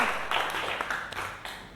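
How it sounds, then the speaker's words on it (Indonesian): Classroom audience clapping for students who answered correctly, a soft scattered round of hands, fairly faint and fading out over a couple of seconds. "tepuk tangan untuk semua yang berhasil menjawab"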